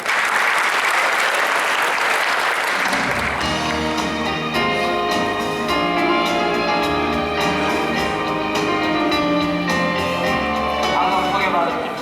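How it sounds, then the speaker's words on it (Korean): A conference audience at a digital broadcasting forum in Seoul applauds to welcome a speaker. The clapping is loud and sustained, and a moment later a voice carries on over it. "박수로 환영해 주시기 바랍니다."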